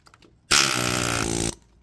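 An air hammer hits a van frame during prep for paint, firing in one loud, harsh burst of about one second between brief quiet moments.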